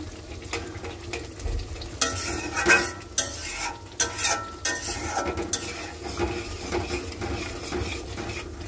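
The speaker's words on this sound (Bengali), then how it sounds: "আর একটুখানি কষবো" Spices sautéing in a pan with vegetables to follow: an ongoing close sizzle broken by repeated scraping and knocking strokes of a spoon stirring against the metal, with no voices.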